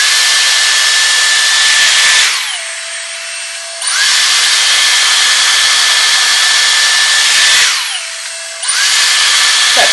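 A Dyson Airstrait hair straightener blows a loud, steady high airflow whoosh close by, twice dropping to a lower tone for about a second and a half before returning to full power; no one speaks.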